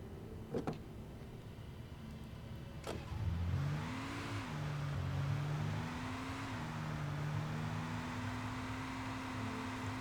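A car engine in the Alan Wake video game starts up at about three seconds and then runs steadily, its pitch rising and falling with gentle acceleration, moderately loud with no talking.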